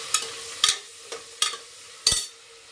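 Fenugreek leaves fry in a pan while being stirred, giving five soft scraping stir strokes spaced about half a second apart over a faint steady sizzle, close and quiet.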